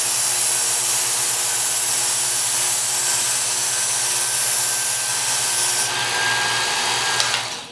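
A Work Sharp Ken Onion belt sharpener with the X4 belt grinds a knife edge freehand, a steady close abrasive whir holding evenly for several seconds before shifting near the end.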